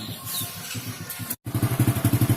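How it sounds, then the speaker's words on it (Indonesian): An old Honda Supra motorcycle engine catches after a brief cranking and a sharp cutout, then settles into a fast, even, throbbing idle close by. "ini mesin sudah nyala"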